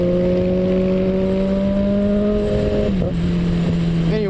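Kawasaki ZX14 motorcycle engine droning loud and steady under acceleration, then the pitch dips sharply near the end as traction control cuts power, with a brief stutter before the engine note recovers.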